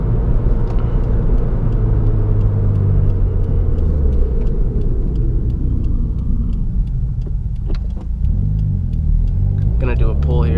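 A 2018 Subaru WRX rolls fast along a back road, with a steady cabin rumble of engine and tires and a rising engine note late on, while someone talks over it.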